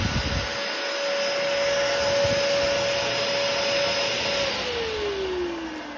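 A repaired Dyson DC07 upright vacuum cleaner runs steadily and loudly with a constant whine, its motor pitch dropping slightly near the end as it begins to wind down.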